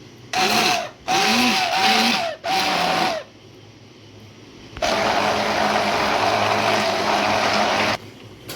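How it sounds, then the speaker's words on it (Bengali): A hand blender whirs loudly in three short bursts, whipping mango ice cream mixture, pauses, then runs steadily for several seconds before stopping. "এখন এটাকে আমি একটু হ্যান্ড গ্রাইন্ডারে একটু ফেটিয়ে নেব"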